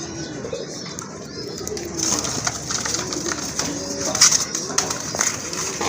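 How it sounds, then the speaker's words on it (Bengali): A pair of Rajgolla pigeons coo close by in repeated soft, throaty rolls, with faint background chatter and rustling. "খুবই অ্যাক্টিভ এক জোড়া কবুতর মাশাআল্লাহ দেখার মতো"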